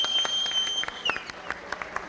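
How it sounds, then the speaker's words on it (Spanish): Audience applause rings out at a televised Madrigal music tribute, a steady wash of clapping with sharp individual claps standing out, alongside a sustained high tone throughout. "¡Fuerte el aplauso!"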